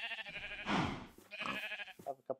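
Sheep in the Minecraft video game bleat in several short, close calls, two longer wavering bleats followed by brief clipped ones near the end.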